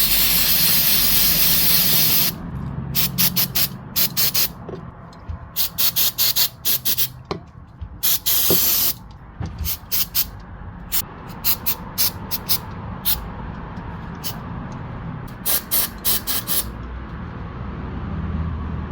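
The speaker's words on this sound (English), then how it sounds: "Alright, so I got some Clean Flow carb cleaner." Clean Flow carburetor cleaner hisses from an aerosol can onto a pressure washer carburetor in many short, sharp bursts of spray, close and loud, with quieter gaps between the bursts.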